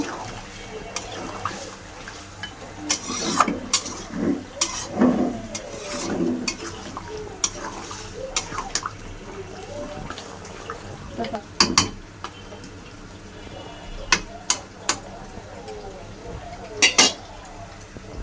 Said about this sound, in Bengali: হালকা কষাতে থাকবো